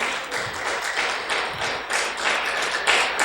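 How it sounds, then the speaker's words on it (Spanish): Loud, dense applause from a church congregation during a service, with sustained overlapping claps and scattered sharper taps filling the whole stretch without a break. "Dale un fuerte aplauso a ese Dios de poder"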